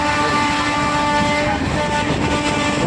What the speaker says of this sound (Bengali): ট্রেন নিজের গতিতে খুব এগিয়ে চলছে ভালোই গাড়ি টানছে